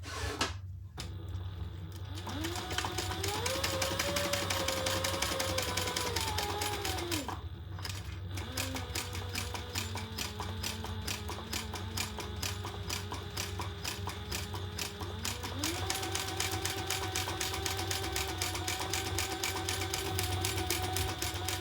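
A sewing machine stitches around the outside of a handmade OMA bag, its steady rapid mechanical whir running continuously for most of the time with brief pauses and changes in motor pitch.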